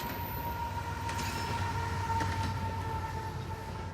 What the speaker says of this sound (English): Well, we caught up to the freight train.